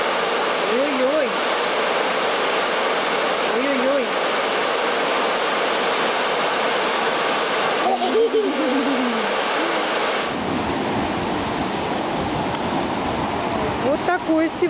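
Rough sea surf on a rainy day at Kabardinka, heard as a loud, steady roar of breaking waves close by, with brief voices over it.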